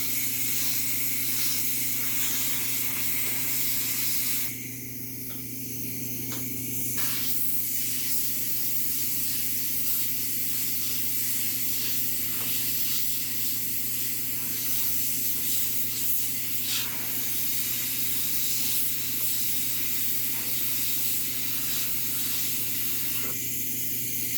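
Airbrush run by an air compressor spraying paint, giving a steady, loud hiss that continues throughout with brief dips in intensity.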